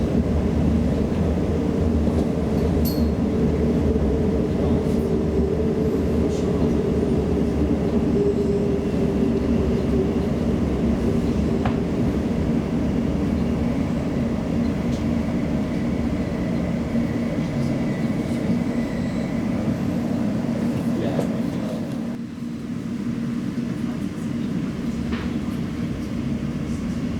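A London Underground train on the line toward Abbey Wood via Canary Wharf runs between stations with a steady, loud low rumble and hum throughout, briefly dropping as it changes pace near the end.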